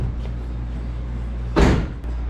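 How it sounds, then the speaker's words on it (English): A door is pushed shut in a garage while getting a race car with slicks and fenders ready for race day, giving a single firm thud over a steady low hum of background noise. "Oh, here, I gotta shut this door."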